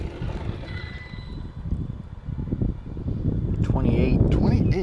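A Hosim X0-8 RC speed boat runs fast across the water, its buzzing motor droning steadily and swelling near the end amid wind and splashing, with someone talking over it.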